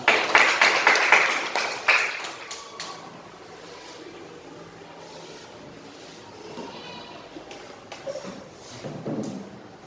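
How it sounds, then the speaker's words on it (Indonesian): A classroom of schoolchildren claps hands together in a loud burst of rhythmic clapping for about two seconds, then dies away into quiet room noise with faint scattered sounds. "Tepuk tangan sekali lagi buat kita semua"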